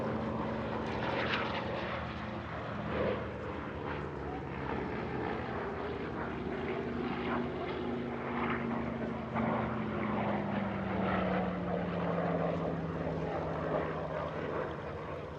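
A CAC Boomerang WWII propeller fighter flies past at an airshow at Paris-Villaroche, its piston engine a steady droning roar with a slowly falling pitch as it passes, continuous throughout with background crowd ambience.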